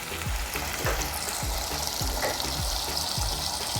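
Chicken masala with onion and tomato sautéed in a pan, giving a steady dense sizzle with regular scraping stirs about every half second, close and continuous, with no talking.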